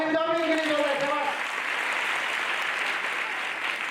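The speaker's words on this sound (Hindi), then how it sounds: "ताली बजाओ" A group claps together during a Hindi motivational talk and quiz session, a dense burst of hands right after a brief spoken phrase, continuing steadily to the end.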